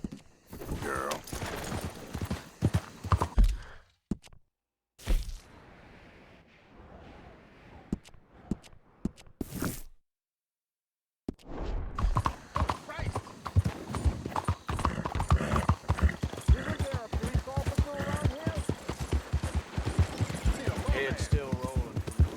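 Horse hooves clip-clop steadily while riding in Red Dead Redemption 2, with a brief pause and near-silent gaps early on, then a dense, continuous run of close hoofbeats with occasional voices.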